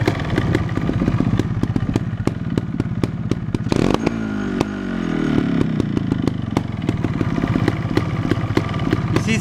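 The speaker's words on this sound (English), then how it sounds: "Very low of idle, it means that it's okay compression and no leak" A Montesa 260 motorcycle engine idles just after a cold start, a loud, close, fast-pulsing putter with a brief rev-like surge partway through before it settles back to a steady idle.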